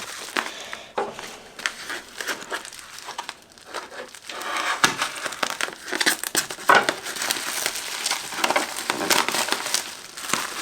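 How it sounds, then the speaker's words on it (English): Plastic bubble wrap packing around a camera lens crinkling and rustling steadily up close, with crackly, irregular handling noises throughout. "And they really packed it in this bubble wrap."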